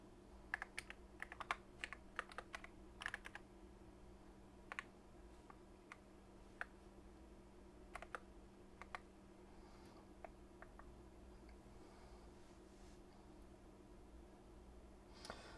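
A faulty computer keyboard is typed on in quick, irregular bursts of crisp key clicks, close by but quiet, thinning out to scattered single taps over a low steady hum.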